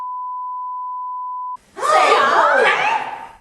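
A steady pure censor beep tone holds for about a second and a half, then cuts off into a burst of loud, strained shouting voices.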